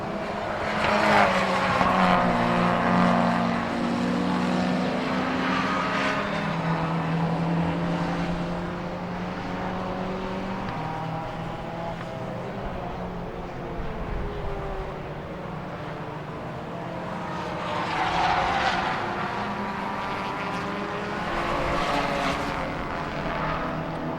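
Race cars, a BMW among them, roaring past on the Silverstone GP circuit during a Britcar Endurance Trophy race, engines swelling loudly as they pass close and fading between passes, with gear-change pitch sweeps audible throughout.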